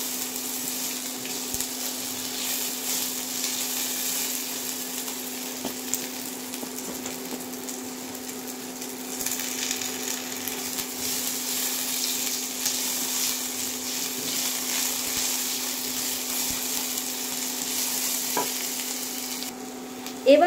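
Small cut potato pieces fry lightly in a pan for muri ghonto, a long, steady sizzle close by with occasional faint scrapes and a low hum underneath, no talking.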